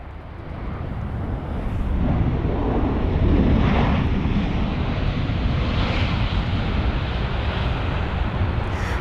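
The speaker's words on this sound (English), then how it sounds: "This is actually the Air Algérie 737-800 from the Algiers, a 2 hour and 47-minute long journey." Air Algérie Boeing 737-800 airliner at London Heathrow, a continuous broad jet engine roar that swells and holds loud, with wind buffeting the microphone.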